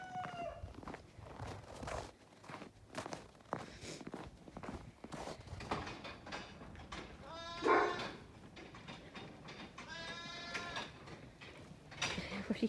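Sheep and lambs bleat inside a farm barn, with a loud nearby bleat around the middle and another run of bleating toward the end, over footsteps, rustling and scattered barn noise.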